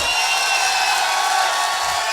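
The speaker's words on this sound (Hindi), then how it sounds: "अब तक की सबसे जोरदार तालियां, सबसे जोरदार तालियां" An audience at a motivational business seminar applauds and cheers, a dense, steady wash of many hands and voices that holds at full strength throughout, with no distinct individual claps standing out.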